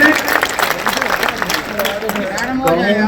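Crowd at a BJP political rally in Shahbad applauding a candidate on cue, a dense continuous wash of clapping with cheering and babble, loud and steady throughout.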